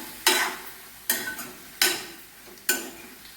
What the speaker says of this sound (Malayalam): ഇത് ഒരു 10 മിനിറ്റ് ഇങ്ങനെ വഴട്ടണം.